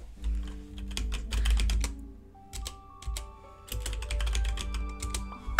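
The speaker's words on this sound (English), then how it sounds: "She's like typing in her freaking iPad." Rapid, uneven tapping of typing in a video game, with a character working on an iPad; clustered clicks come in bursts over sustained tonal game sounds and a low rumble, with no voices.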